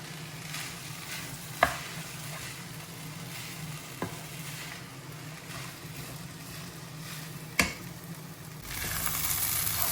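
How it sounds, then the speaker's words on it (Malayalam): Boiled, salted green gram is stirred into a banana-peel stir-fry. Soft, steady sizzling and scraping sit under a low hum, and three sharp clacks of a spoon on the pan stand out, with no talking. "നമുക്കിനി ഇതിനകത്തോട്ട് ഈ ചെറുപയർ വേവിച്ച് വെച്ചിരിക്കുന്ന, ഉപ്പിട്ട് വേവിച്ച് വെച്ചിരിക്കുന്ന ചെറുപയർ കൂടെ മിക്സ് ചെയ്യാം."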